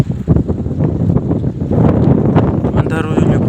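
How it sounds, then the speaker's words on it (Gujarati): Strong gusting wind buffets an outdoor microphone as rain approaches, a dense low roar that swells and holds steady for a few seconds with voices talking over it. "અને બધી બાજુ પવન એટલો છે"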